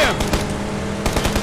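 Rapid automatic gunfire in a PUBG match, a rhythmic burst of closely spaced loud shots with a short pause midway before the firing resumes, dense and close throughout.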